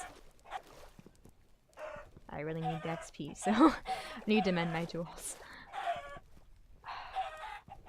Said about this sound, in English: through those glass panes, I have a little chicken farm